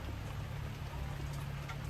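Rain falls steadily on a boat, a dense, even hiss with a low rumble underneath, continuous and close with no voices.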